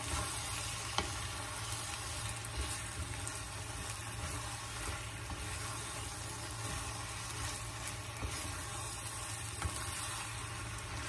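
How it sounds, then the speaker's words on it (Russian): Potatoes with squid and corn sizzle in a pan in a steady, faint crackle, with occasional soft scrapes from stirring, close up and with no voices. "Мешаем, попробуем."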